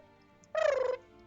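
A magical flower in the Heart of the Sea video game chirps and whirls to life, a single bright warbling burst under half a second long, fairly close and clear over a quiet background.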